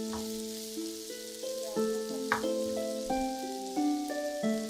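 Onion and capsicum fry in a pan with a steady, crackling sizzle and occasional stirring, heard under light background music.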